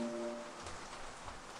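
Steady rain falls in a video game, a dense even hiss heard close with faint tonal game sounds briefly at the start.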